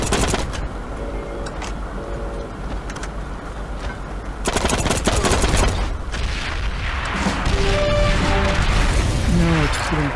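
Gunfire in the video game Heroes and Generals: rapid machine-gun bursts and booming shots, loud and continuous, with a player talking over the action.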